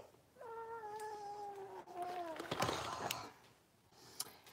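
A cat gives a long, clear drawn-out meow that slides downward, followed by a rougher, more strained cry, close and fairly loud indoors with faint background noise.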